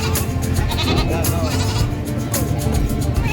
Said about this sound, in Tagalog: Kambing ni Sir Marvin yan.